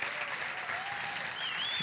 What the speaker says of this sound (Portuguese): Vou pedir para vocês aplaudirem o Senhor pela vida dos laranjeirenses.